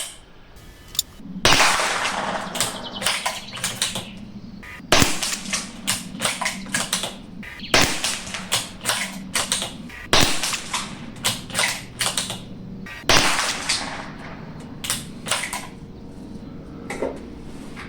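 A Bergara rifle fires on an outdoor shooting range: about five sharp, loud shots spaced several seconds apart, with mechanical clicks and clatter from cycling the action between them.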